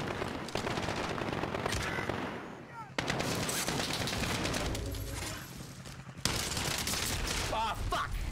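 Rapid bursts of gunfire from Call of Duty Warzone crackle almost nonstop for the whole stretch, loud and dense, with a brief lull midway before the shooting resumes just as hard.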